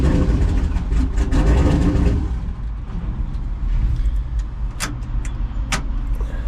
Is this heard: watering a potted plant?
no